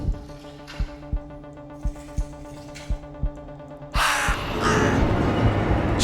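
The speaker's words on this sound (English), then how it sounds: "A bird, just a bird." A crow in the Scottside video game gives a loud, close burst of harsh caws near the end. Before it, a steady game ambience hums with a series of soft, evenly spaced ticks.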